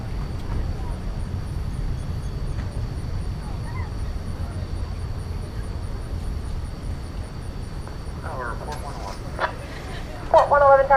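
An airliner departs DFW Airport on a long flight to Sydney, heard as a steady, distant low roar of jet engines that stays even throughout, with a voice coming in briefly near the end.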